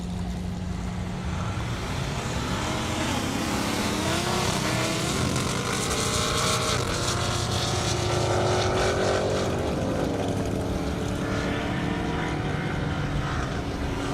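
A Chevrolet S10 and a Cadillac CTS-V race down a half-mile airstrip at the Indy event, their engines a loud, continuous roar whose pitch climbs and shifts as they pass, with no talking.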